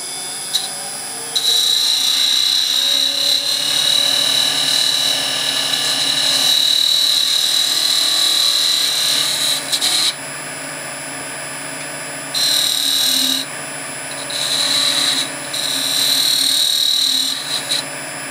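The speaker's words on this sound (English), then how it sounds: "lathe on, shield down" A woodturning lathe runs with a steady high whine over a low motor hum, cutting in and out several times as the tool meets the spinning wood, loud and close with no talk.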